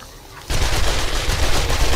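An M60 machine gun opening fire in 7 Days to Die: after half a second of near quiet, a sudden loud, dense burst of automatic gunfire runs steadily to the end.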